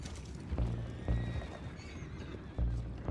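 Horses whinny and neigh close by in Red Dead Redemption 2, a couple of high, wavering calls over snorts and hoof clatter, with no one speaking.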